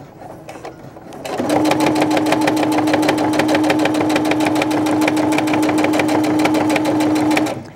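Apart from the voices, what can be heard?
sewing machine top stitching with heavy thread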